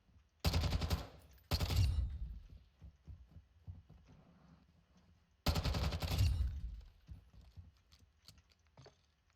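A Kastov 74U submachine gun with a 45-round magazine fires in Call of Duty Warzone: three loud, sharp automatic bursts, two close together early and one later, each trailing off into softer game noise.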